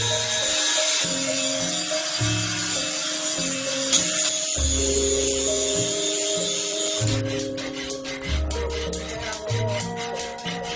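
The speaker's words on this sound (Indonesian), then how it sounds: "Bentuk pola dasar yang disebut kodokan kemudian dihaluskan dengan proses penggerindaan." Grinder smoothing the base shape of a keris blade, a steady whining grind with shifting pitch running continuously throughout, fairly loud with a buzzier stretch near the end.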